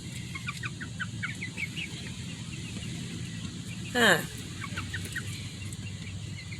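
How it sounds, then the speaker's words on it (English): A young cockerel in a backyard chicken pen gives one brief, rising call midway, with faint chirps from other young chickens around it, and a person murmurs quietly nearby. "That's a little rooster right there."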